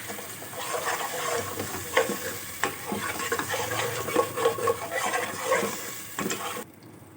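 Tomato paste frying with ground onion and spices in a pan, for kadhi pakoda: an uneven sizzle broken by repeated clattering stirs and scrapes, close by and without voices, cut off abruptly at the end.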